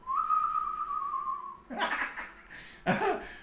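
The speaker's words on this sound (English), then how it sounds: "That whistling sound on the mission was released decade." A steady, clear whistled tone held for about a second and a half, followed by two short bursts of laughter, one of them loud.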